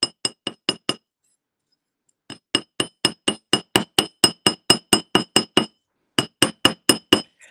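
Sharp metallic clinks of a hammer striking a metal pendant while forging it, a quick burst of five blows, a pause, then a long steady run of evenly spaced strikes and another short series, loud and close.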